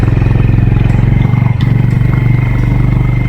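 A Honda CB350 H'ness motorcycle engine lugs at low RPM, a loud, close, steady rapid thumping pulse that holds evenly throughout with a brief dip midway.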